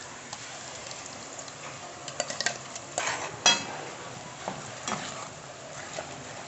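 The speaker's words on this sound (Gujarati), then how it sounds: "હવે આપણે જે ગ્રેવી બનાવી ને એ એમ એડ કરી દે." Gravy poured into a pan of fried onions for a capsicum curry and stirred, a spoon scraping and clinking against the pan with a few louder stirring bursts over a soft sizzle.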